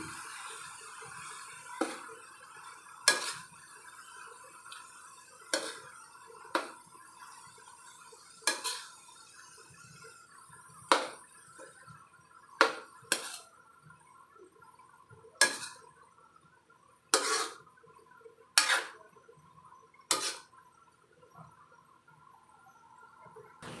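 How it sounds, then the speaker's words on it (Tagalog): A spoon clinks against a pot while stirring a winged bean dish, sharp metallic knocks arriving irregularly, about a dozen taps over a quiet kitchen background. "haluin lang natin"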